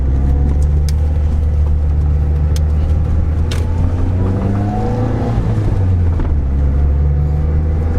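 A Nissan Pulsar GTI-R idles nearby with a steady, deep rumbling drone. The engine hum holds constant and loud the whole time, with faint clicks and shifting tones above it and no talk.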